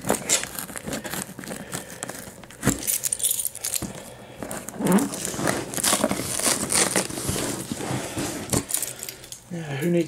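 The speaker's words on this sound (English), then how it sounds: "Who needs box cutters when you have a set of spare keys" A set of spare keys jangles, scrapes and saws through the tape of a cardboard box, with rattling metal clinks, crinkling and tearing bursts running steadily and close up while a person talks over it.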